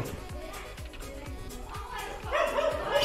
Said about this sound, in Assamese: আমাৰ ঘৰত আৰু এটা কুকুৰ আছে